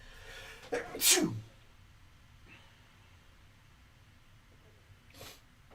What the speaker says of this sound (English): Pardon me, I'm about to sneeze